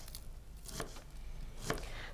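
Knife chopping an onion finely on a board, a few soft separated cuts over low room noise, close and fairly quiet.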